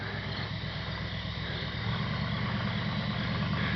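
A vehicle engine idles steadily with a low rumbling drone, continuous and fairly close, with no voices.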